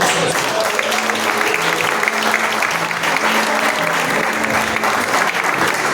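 A church congregation applauds in steady, dense clapping that fills the whole stretch at even loudness, with faint musical tones held underneath.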